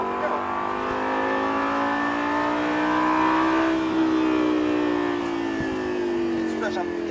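A Lamborghini LP560-4 on a race track holds a loud, sustained engine note whose pitch climbs and dips through revs and gear changes across the whole stretch, close and continuous.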